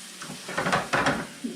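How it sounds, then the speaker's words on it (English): Onions sauteing in a pan give a close, steady sizzle and crackle with a few soft stirring scrapes, heard alone without talk. "Saute those until they're clear."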